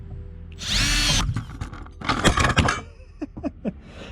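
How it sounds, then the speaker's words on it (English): A power drill whirs loudly in one sustained burst, drilling through a hole too small for a screw, followed by grinding and clattering bursts and a few short mechanical clicks near the end. "so I'm gonna have to drill through this"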